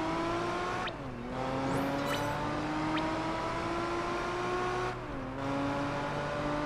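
A TVR sports car's engine in Project Gotham Racing 4 drones steadily at high revs, its pitch climbing, with two brief dips where gears change, and no talking.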